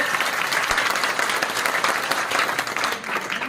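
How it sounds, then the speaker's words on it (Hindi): Crowd at a political rally in Rajasthan gives a strong round of applause, dense continuous clapping from many people with a few sharper individual claps standing out, fairly close, no speech over it. "एक बार जोरदार तालियां बजाकर आशा मीना जी का स्वागत करेंगे।"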